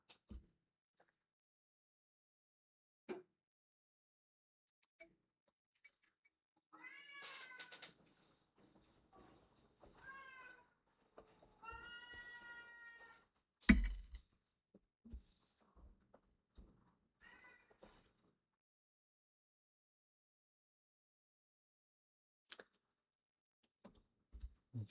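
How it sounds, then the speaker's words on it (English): A cat meows in distress somewhere below, several faint, drawn-out wavering cries in short clusters, set among sparse quiet clicks and taps with a single louder thump midway. "There's a very upset cat down there somewhere."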